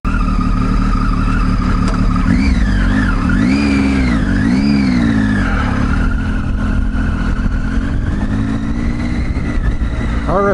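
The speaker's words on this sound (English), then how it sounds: "we'll jump on the bike, make a few comments" A KTM motorcycle engine runs loud and close as the rider sets off, its pitch rising and falling through a few revs before settling into a steady drone, with wind noise throughout.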